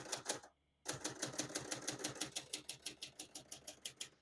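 Typing on a 1967 Hermes 3000 portable typewriter, with crisp rapid keystrokes in an even rhythm broken by a short pause near the start, close and distinct with no talk.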